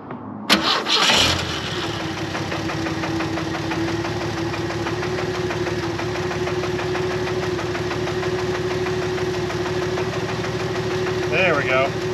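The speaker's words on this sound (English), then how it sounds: "That's the pulses of a fuel pump." A small engine cranks and then settles into a steady running drone, with fine regular pulsing from a fuel pump drawing from a tank of shine juice fuel. The sound is close, continuous and fairly loud, with brief rattles near the end.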